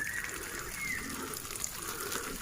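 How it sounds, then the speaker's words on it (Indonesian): Water gushing steadily from a hose while durian trees are watered during the dry season on an orchard, a continuous close splashing flow with no talk. "Ini juga sedang kita laksanakan penyiraman"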